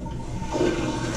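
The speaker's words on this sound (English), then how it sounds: "Flush, nice, clean, fresh, ready for the next person to use the restroom." A public restroom toilet flushes in a single steady rushing wash of water, fairly close and loud throughout, with no talk over it.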